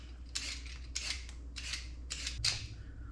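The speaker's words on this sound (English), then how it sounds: "First, we're going to peel our potato." A peeler scrapes across a potato in about six quick, separate strokes, each a crisp rasping swipe close by, with no talking.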